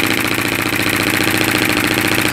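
A small model radial engine of Elmer Verberg's design runs on compressed air, giving a loud, steady, rapid mechanical chuffing and clatter close by, with no talking.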